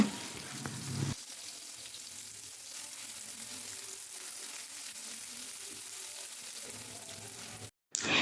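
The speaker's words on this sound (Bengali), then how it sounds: "পেঁয়াজটাকে আমি ভেজে নেব" Chopped onion fries in hot oil with whole cumin and whole garam masala spices for Kashmiri pulao, a steady close sizzle that runs throughout, beginning and ending with louder bursts and no speech.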